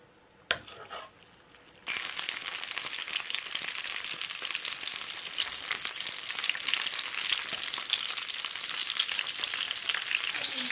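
Squab pigeons hit a pan of butter and oil after a brief clatter, then fry with a loud steady sizzle and crackle that runs on without a break.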